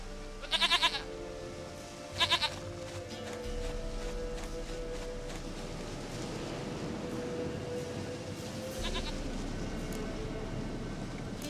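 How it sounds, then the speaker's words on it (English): A goat bleats in The Witcher 3, two short quavering bleats near the start and another about nine seconds in, heard over a steady low rumbling game ambience with no talking. "Goat of mine, dearest, sweetest goat."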